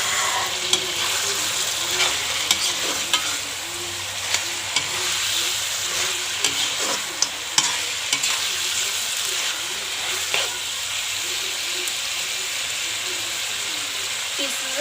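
Chicken frying in a pan, a steady sizzle and hiss running throughout as a utensil stirs and scrapes the meat, producing scattered clicks and knocks over the continuous crackle.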